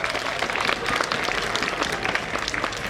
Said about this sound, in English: Can we get them all a round of applause, please?